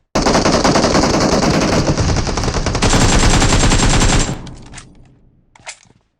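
Loud, sustained automatic gunfire from BGMI (Battlegrounds Mobile India, 1.6 Flora Menace update), a dense rapid burst running about four seconds before cutting off, followed by a few fainter trailing shots and rattles.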